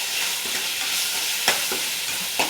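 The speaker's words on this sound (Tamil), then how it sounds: "நல்லா இந்த மாதிரி வதக்கி விடுங்க." Country tomatoes sauté with salt in a hot pan, sizzling steadily up close, with a few quick scrapes and knocks of the stirring spoon.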